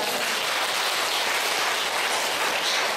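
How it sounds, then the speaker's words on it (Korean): A church congregation claps together at a national revival gathering, a steady dense wash of applause throughout with no voices over it. "하나님의 영광의 박수 드리시기 바랍니다"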